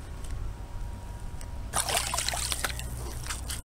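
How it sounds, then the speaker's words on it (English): Stain-testing solution from a metal-stain identification kit poured onto a spot on fabric, a close, bright splashing trickle starting partway in after a quiet low hum, continuing steadily until an abrupt stop. "I'm going to go ahead and pour solution 1 right on that spot and see which one worked better."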